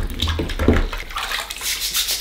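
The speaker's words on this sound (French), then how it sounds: "on prend une balayette, on trempe dans l'eau et puis on vient humidifier les briques" Hand brush dipped and sloshed in a container of water before wetting old bricks during a wall renovation, with short splashy water movements close by, no voices.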